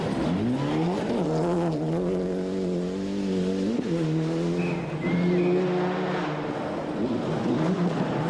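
A Mitsubishi rally car driven by Kenneth Eriksson on a tree-lined Australian stage of the 1995 World Rally Championship, engine loud and close, revving up and down through gear changes with brief rising squeals.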